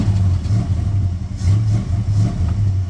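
An engine is revved with short throttle whacks, rising and falling in a few quick pulses, loud and close with a deep mid-range roar and no talking.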